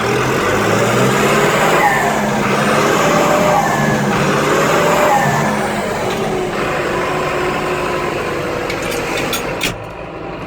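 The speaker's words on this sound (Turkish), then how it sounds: "turbo sesini duydunuz." A new Tümosan 8095 tractor engine revs loudly and steadily with a whining turbo, holding high throttle before easing off slightly toward the end.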